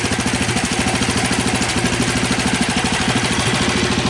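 An 8hp Briggs engine with blow-by problems runs on a 1973 ST10 tractor, giving a steady, loud, rhythmic chugging idle that pulses evenly throughout with no talk over it.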